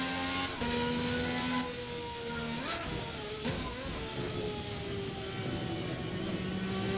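A car driving gently on medium tires, with a steady engine drone and tire roar running continuously and gear-shift pitch changes, close and fairly loud, no talking.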